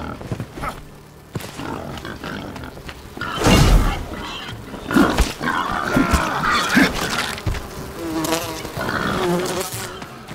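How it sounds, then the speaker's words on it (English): A swarm of bees in the video game Enshrouded buzzes loudly and continuously, mixed with combat impacts, grunts and other game effects. "Oh, them bees are still after."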